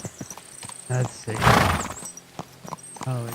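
A horse whinnies loudly in the middle of the clip in the video game Kingdom Come: Deliverance 2, with a few hoof clops and a person speaking before and after.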